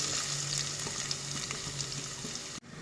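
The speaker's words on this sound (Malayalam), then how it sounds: "ഇതിലേക്ക് ഉള്ളി ഇട്ട് കൊടുക്കട്ടോ." Onions fry in hot oil in a pan, giving a steady, soft sizzle that runs without talk and cuts off abruptly at the end.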